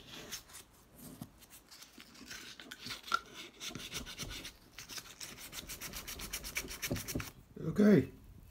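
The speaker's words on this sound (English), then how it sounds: "Using some fine sandpaper, I think it's around 400 grit, just to finish things up." Hand sanding a ported Honda B18C1 GSR oil pump with fine 400-grit sandpaper, quiet close rhythmic rubbing strokes that speed up toward the end, with a brief louder knock.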